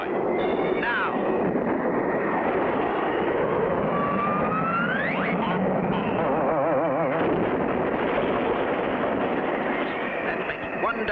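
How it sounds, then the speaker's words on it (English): An airplane with a cable from a pylon hooked to its tailpipe roars during takeoff in a cartoon, a loud continuous engine drone with whooshing, rising swoops, filling the whole stretch. "Frenchie Fontaine waits for the takeoff signal, not knowing the other end of the cable that's fastened to the pylon is hooked to his plane's tailpipe"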